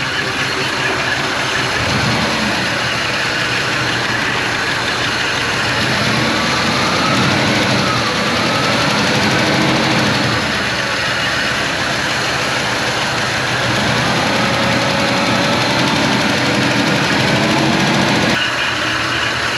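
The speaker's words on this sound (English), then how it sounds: "Now that lifter noise sounds like it's going away." A 1956 Chrysler Windsor wagon's 354 HEMI V8 idles steadily and up close with lifter noise, a continuous rumble that runs the full length with no talking.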